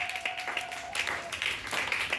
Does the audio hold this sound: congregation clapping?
yes